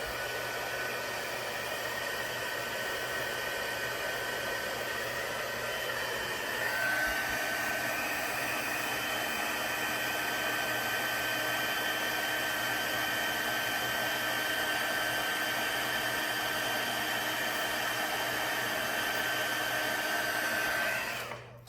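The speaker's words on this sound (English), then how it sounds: "you always want to make sure that you let your heat tool heat up before you start using it." A heat embossing tool for rubber stamping blows hot air in one continuous, close, steady whir, with the tone shifting slightly as it warms, then cutting off at the very end.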